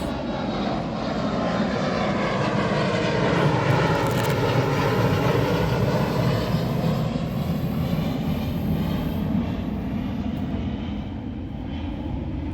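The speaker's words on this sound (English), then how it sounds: "Give me a moment as this airplane goes over us." A propeller airplane passes overhead, its engine drone swelling to a loud peak mid-pass and then slowly fading as it moves away, heard alone with no speech.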